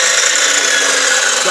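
A steady, high-pitched power tool whine runs continuously, loud and close, with a bright buzzing edge as a saw bites through wood.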